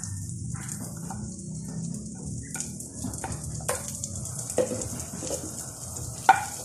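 Onion sautés in a pan for sweet and sour pork, a soft steady sizzle with light scraping stirs and occasional small clicks, close by with no talking.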